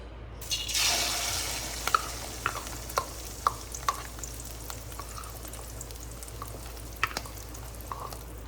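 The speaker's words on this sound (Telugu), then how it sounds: "నూనె వేడెక్కింది కదా, ఇప్పుడు ఇందులో మనం కలిపి పెట్టుకున్న ఎగ్ మిక్స్చర్ని దీంట్లో వేసుకుందాం" Egg omelette mixture poured into hot oil, giving a soft rush of sizzling at first that settles into a faint, steady frying hiss with occasional small pops and taps, no talking.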